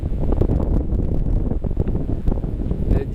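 Wind of about 12 to 13 knots buffets a sailboat at sea off Cape Verde, a loud, gusty low roar with fluttering rumble throughout and no voices.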